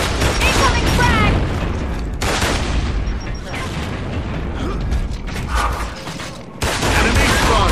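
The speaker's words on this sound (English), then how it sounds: "Incoming frag!" A frag grenade goes off amid an online team deathmatch in Gears of War: Judgment, heavy booms and bursts of gunfire layered with mechanical clatter, loud and continuous with game voices calling out over the action.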